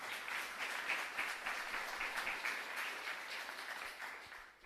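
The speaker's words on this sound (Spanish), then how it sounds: "le damos gracias con un fuerte aplauso" A congregation at a Sunday Mass in a small chapel applauds, a dense, steady patter of many hands at a moderate distance that fades toward the end, with no talking.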